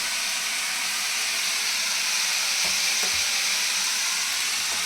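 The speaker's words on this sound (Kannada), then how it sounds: "ಇವಾಗ ತೆಂಗಿನಕಾಯಿನೂ, ಕೊತ್ತಂಬರಿ ಸೊಪ್ಪು, ಕರಿಬೇವು ಮಿಕ್ಸ್ ಮಾಡ್ಕೊತೀನಿ" Grated coconut, coriander leaves and curry leaves stirred into a frying pan for Mandya-style upsaru, a steady loud sizzle and hiss with a couple of soft scraping knocks from the stirring.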